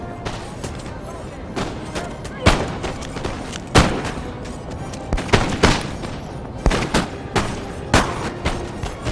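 Musket volleys in a Napoleonic-era 1v1 battle video game: irregular cracks and booming shots, some single and some in ragged clusters, ringing out repeatedly over a constant low battlefield rumble.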